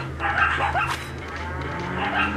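A dog in the game Resident Evil 4 VR gives a few yips and barks in short bursts, fairly close, over a low background hum with no clear talk.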